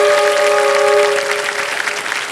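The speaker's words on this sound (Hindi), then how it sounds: "एक बार फिर रौनक जी के लिए हम ताली बजाएंगे" Studio audience on the KBC game show clapping together, a loud full burst of applause that begins under a sustained tonal hum and then thins out slightly toward the end.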